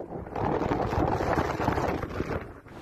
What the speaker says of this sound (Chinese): 再听一次这风切声。